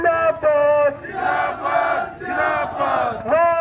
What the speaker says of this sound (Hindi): विधायक मुर्दाबाद, विधायक मुर्दाबाद के नारे लगाए जा रहे हैं